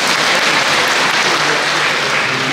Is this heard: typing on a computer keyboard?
no